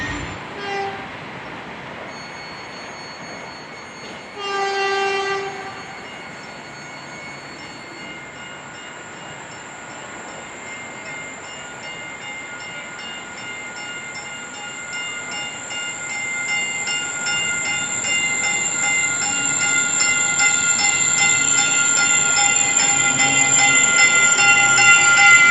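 A train approaches and passes with a long, sustained horn blast that starts faint and grows steadily louder over about twenty-five seconds, with a brief horn note early on and a rising rumble underneath.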